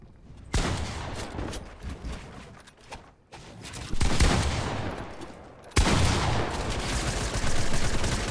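A light machine gun in Fortnite fires in long, loud sustained volleys, dense rattling shots pouring out in continuous streams broken by brief pauses.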